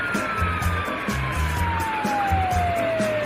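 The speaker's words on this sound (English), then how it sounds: "Police car." A police car siren wails loudly and steadily, its single tone gliding slowly downward over a rhythmic low backing beat.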